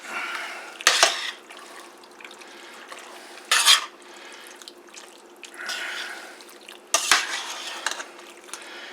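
Penne noodles being stirred in a pan with Alfredo sauce, giving three sharp metal-on-pan scrapes and clinks, each about a second apart, with softer wet sloshing between them and no talking.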